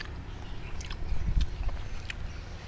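Crunchy chewing of fried mole crickets eaten with bamboo shoot curry, soft close bites and mouth squishes, quiet and intimate with no talking.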